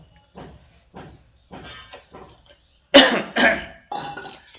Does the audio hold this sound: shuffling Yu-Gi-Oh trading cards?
no